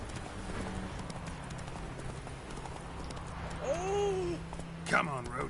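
Hoofbeats of Roach, the horse in The Witcher 3: Wild Hunt, clop steadily at a gallop under game ambience, with a short rising whistle-like tone and a sharp burst near the end.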